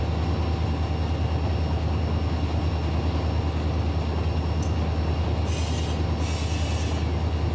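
CSX freight train in the Run 8 Train Simulator game rolling steadily with a constant low rumble and rail noise, near and loud throughout, with brief hissy bursts toward the end.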